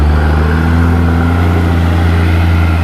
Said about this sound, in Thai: ชอบเสียงเทอร์โบนี่มากเลย